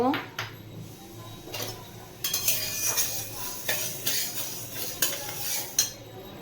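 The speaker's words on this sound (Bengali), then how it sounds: "কড়াইয়ের মধ্যে প্রথমে মুগ ডালটা দিয়ে ভেজে নেব" Mung dal dry-roasting in a wok on a gas stove, with spatula scrapes and metallic clinks against the pan over a faint sizzle, close and uneven in rhythm.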